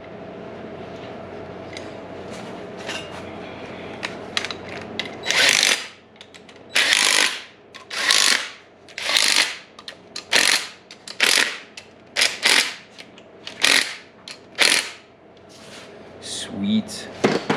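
A power drill whirs in a series of short, loud bursts separated by brief pauses, drilling for engine mounts during an LS engine swap, with some quieter mechanical rattling before the drilling starts.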